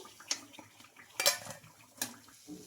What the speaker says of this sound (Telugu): మనకు ఇంకా ఒక ప్లేట్లోకి అయితే తీసుకుంటున్నా